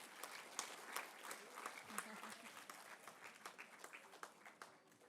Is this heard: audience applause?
yes